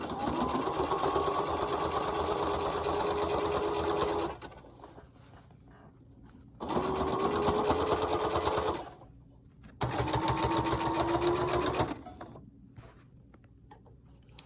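Sewing machine stitching double folded bias tape onto fabric, three loud steady whirring runs of a few seconds each, separated by quiet pauses, close up.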